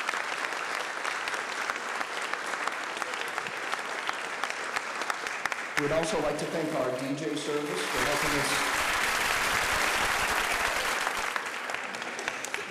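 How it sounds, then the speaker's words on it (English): A room of attendees at a BNI business networking visitor day applauds, sustained even clapping throughout, with someone speaking over it for a few seconds before the clapping swells again. "Let's give them a round of applause"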